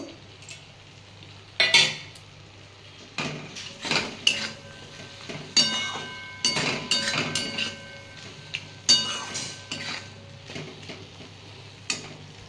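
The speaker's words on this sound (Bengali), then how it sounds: "ভেজে রাখা উচ্ছেগুলো দিয়ে একটু নাড়িয়ে কষিয়ে নেব।" Metal spatula scrapes and clanks against a pan as fried bitter gourd is stirred into a spiced mixture, irregular knocks and scrapes close by with a faint sizzle beneath.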